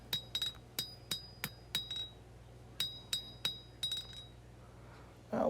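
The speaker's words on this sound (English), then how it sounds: "hammering from the spine side down to the edge side." Steady hammer blows on a hot old file being drawn out to a point at a blacksmith's anvil, a dozen or so sharp metallic clinks in uneven groups with ringing overtones, close and fairly loud, ending in a brief louder noise.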